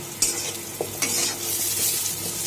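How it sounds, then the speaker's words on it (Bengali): Slices of sweet pumpkin sizzle in hot oil in a pan, a steady close frying hiss broken by a few sharp stirring scrapes and clinks. "হয়ে গেল মিষ্টি কুমড়ো ভাজা।"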